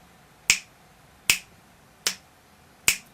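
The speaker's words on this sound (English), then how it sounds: "you'll get a metronome that sounds like a click" Four sharp, crisp metronome clicks, evenly spaced at a slow steady tempo, sound close and clear against a quiet background.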